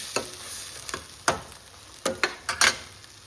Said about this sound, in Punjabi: ਕੜਛੀ ਵੀ ਆਪਾਂ ਚਲਾਈ ਜਾਣੀ ਹੈ ਕੜਾਈ 'ਚ ਨਹੀਂ ਲੱਗਣ ਦੇਣਾ ਪੈਣਾ